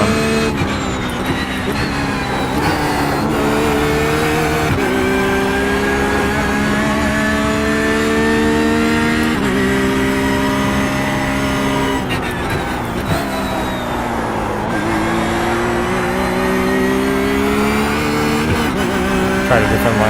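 A Porsche 911 GT3 R race car engine screams steadily at high revs while lapping Bathurst in iRacing, with pitch shifts at gear changes, loud and continuous for the whole stretch.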